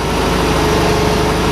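A boat engine idles while warming up, a loud, steady low rumble with an even pulsing beat that fills the short stretch, with no speech.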